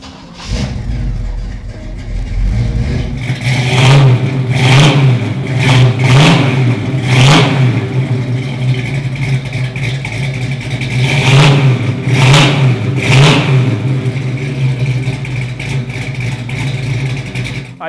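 A 1969 Chevrolet Camaro SS396 with a big block 396 V8 fires up close by, then settles into a loud, rumbling idle broken by several sharp throttle blips and revs.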